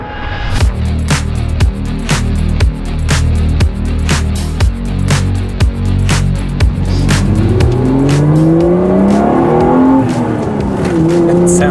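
A Toyota Chaser JZX90 engine revs hard under load, its steady loud drone climbing and falling through repeated gear changes, with rising pitch sweeps near the end as the car accelerates while being driven.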